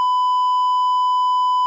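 A steady electronic beep from a sound effects board, one continuous pure tone held for nearly two seconds, clear and alone with no talking.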